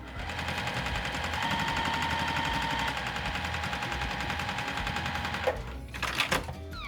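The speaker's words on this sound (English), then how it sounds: "Turn on your sewing machine, guys." A sewing machine stitches quilt squares for a pinwheel quilt, a fast, steady mechanical chatter running loud and close, then a few rustles and clicks as it stops.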